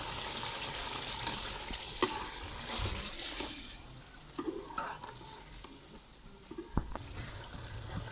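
Chicken and masala fry in a pan for dum biryani, with tamarind and dried plums just added, giving a steady close sizzle broken by sharp clinks and scrapes of stirring.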